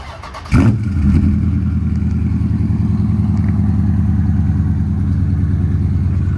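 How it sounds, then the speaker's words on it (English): A tuned E85 Dodge Scat Pack with a stage 2 cam and new mufflers cold-starts on a 50-degree day: a sharp crank and bark, then a loud, steady, lumpy idle rumble close by. "a somewhat semi-cold start with those new mufflers on"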